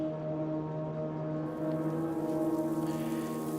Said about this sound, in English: The rain poured down